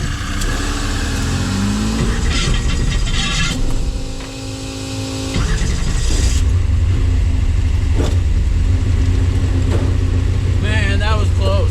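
A 1969 ZL1 Camaro drag car cranks and fires, then its engine rumbles and revs hard as it accelerates, loud and close throughout, with a brief dip midway before the roar returns steady and strong.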